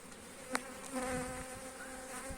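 Honey bees buzzing inside an opened beehive with pollen stores and brood frames; a continuous close, humming drone with individual bees passing nearer, and a brief louder buzz near the start.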